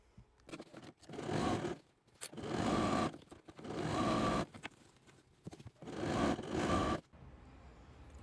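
A sewing machine stitches a fabric dish drying mat tote with a drawstring top, running in three long bursts of steady whirring with short pauses between them, close and loud.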